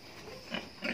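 Pigs in a pen give a couple of soft, brief grunts, faint and somewhat distant, over a low background hiss.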